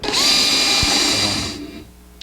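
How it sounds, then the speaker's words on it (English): A power drill bores a small hole in a guitar neck joint fixture, one close, steady high whine lasting under two seconds before spinning down into quiet. "a little bit of drilling."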